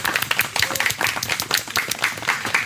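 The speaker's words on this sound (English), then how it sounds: "let's give Kadam sir and the entire team that is Jungli a huge round of applause" An audience at a Founders Day event bursts into brisk, dense clapping that carries steadily and fairly close for a few seconds with no voices on top.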